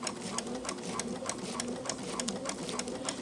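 A dual-feed sewing machine stitches fabric in a steady run of fast mechanical clicks and whirring, close and continuous, with no talking over it.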